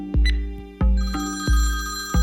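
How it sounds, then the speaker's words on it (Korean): A telephone ringing tone repeats in steady bursts, about three rings in two seconds, loud and close with no voices. "신호는 가는데 왜 전화를 안 받지?"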